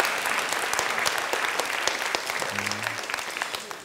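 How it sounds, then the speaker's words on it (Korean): Audience applause at a talk, a dense, steady wash of many hands clapping, fairly loud and continuous, with a brief voice murmuring in the middle. "Let's have a round of applause"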